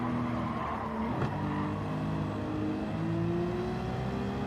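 Nissan Skyline R34 racing engine in Gran Turismo 7 holds a steady, loud drone with rising pitch as it accelerates, joined by a brief tire skid midway, with no talk over it.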